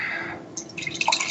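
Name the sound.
beer pouring into a glass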